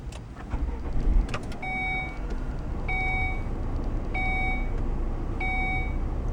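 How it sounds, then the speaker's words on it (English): A 2018 Volvo S60 T5 Inscription starts with a brief rumble, then settles into a low, steady idle inside the cabin while a soft electronic chime repeats four times at regular intervals. "when you do hit the start button, the car starts up very quickly"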